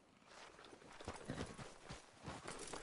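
Horse hooves clip-clop steadily in the Red Dead Redemption video game, a quiet, even walking rhythm of soft thuds with no voices over them.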